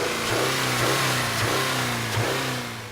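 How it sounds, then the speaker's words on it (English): A Subaru Crosstrek's 2-litre boxer engine pulls under acceleration with a steady, mid-pitched drone that rises and eases in waves, close and fairly loud throughout, with no talking. "the Crosstrek employs Subaru's 2-litre boxer engine"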